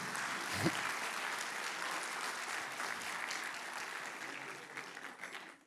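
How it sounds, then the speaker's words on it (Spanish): An audience applauds women being praised during a Spanish-language church talk. The clapping is faint and sustained, with a brief thump near the start, and dies away at the end. "Denle un aplauso a las mujeres que son tremendas."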